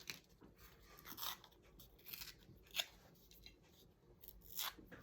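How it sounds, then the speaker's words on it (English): Paper being torn by hand while making vintage-style ephemera, a few quiet rasping rips spaced across the stretch against low room noise, with no talking. "So I'm just going to tear that off."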